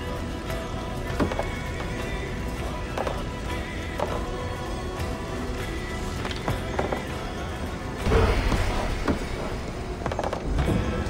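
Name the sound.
horse neighing and hooves clip-clopping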